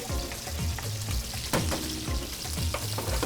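Food browning in a frying pan before garlic goes in, a loud continuous sizzle with repeated stirring and scraping strokes and a sharp clatter midway.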